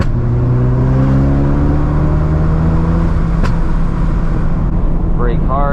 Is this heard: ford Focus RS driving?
yes